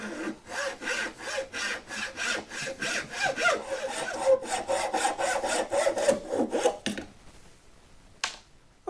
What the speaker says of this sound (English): I'm just going to be using a hacksaw to cut the ends of this slingshot off